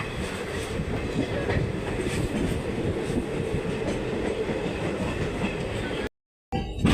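A passenger train on the Palakkad to Nilambur railway runs along with a steady, loud rumble and rhythmic wheel clatter from on board, broken by a brief total cutout near the end.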